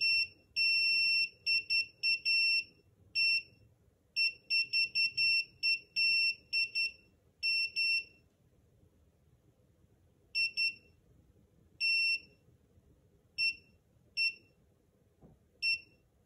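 A SARCTRAC Mk2 3D sensor beeps during factory calibration, giving loud, clear electronic tones in rapid bursts that keep stopping and starting, with long gaps of quiet later on.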